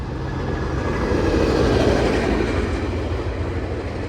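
A train passing nearby, steady rumbling with clickety-clack wheel rhythm and faint squeal, loud and continuous with no talk.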